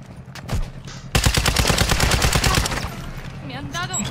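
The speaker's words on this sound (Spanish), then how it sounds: "Me están disparando" Rapid automatic gunfire in Call of Duty Warzone DMZ, a loud close burst of quick shots lasting a couple of seconds, followed by scattered fainter sounds.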